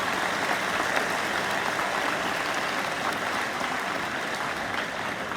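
A high school awards ceremony audience applauds theater award students, a soft, even wash of distant clapping that holds steady for several seconds.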